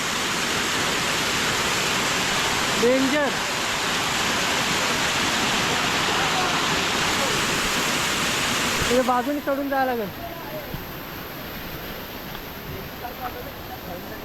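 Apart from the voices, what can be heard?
waterfall with water falling nearby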